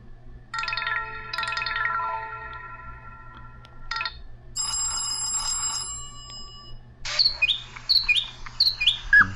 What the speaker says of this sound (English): Remember when people had fun ringtones? This is packed chock full of them.